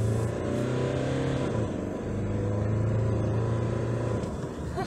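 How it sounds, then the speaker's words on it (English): A 2022 Nissan Navara Pro-4X pickup truck accelerates from inside the cab, the engine note rising and holding, then dropping as the gear shifts before climbing again, with road and wind noise underneath. "this is also a more powerful engine than the previous model. And I can say it's quite fast."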